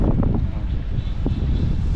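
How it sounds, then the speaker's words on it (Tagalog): Strong wind buffets the microphone at a car campsite in Gulod, Alfonso, Cavite. It makes a loud, continuous low rumble with gusty surges. "Ang lakas na naman ng hangin."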